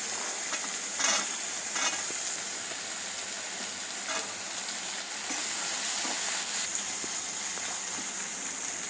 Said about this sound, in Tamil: இப்போ இது எல்லாமே நல்லா வதங்கட்டும்